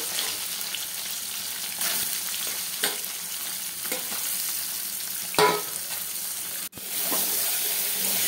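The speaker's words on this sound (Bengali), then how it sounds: "আর এদিকে আমি সয়াবিনগুলো এখন ভেজে নেব।" Soybean chunks fry in hot oil in a pan, a continuous close sizzle broken by a few stirring scrapes and a brief clunk near the end.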